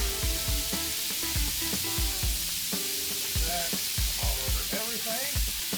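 Ground beef sizzles steadily on a hot Blackstone griddle, a constant close hiss overlaid with repeated sharp metal scraping from a spatula as the meat is broken up and stirred.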